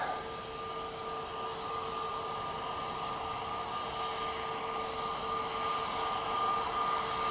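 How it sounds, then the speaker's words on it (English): An Aer Lingus airliner on final approach at Manchester Airport, its steady distant engine drone and whine holding at an even level throughout, with no voices. "I can see that Aer Lingus now turn on to final."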